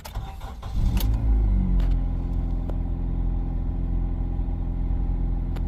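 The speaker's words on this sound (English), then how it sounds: "There we go, the car's running." A Honda Civic engine cranks and catches, then settles into a steady, low rumbling idle that continues close by.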